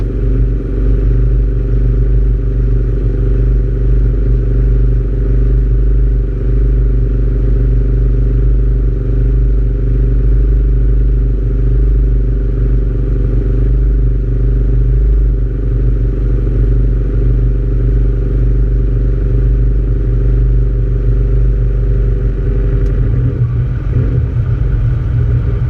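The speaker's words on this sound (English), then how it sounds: "engine RPM is 1500 and we're going to go engage" Helicopter engine running steadily at about 1500 RPM during a training flight, a loud continuous low drone and clatter throughout, with a brief disturbance near the end as the rotor clutch engages.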